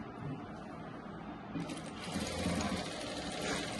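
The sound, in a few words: sewing machine stitching a Rajputi kurti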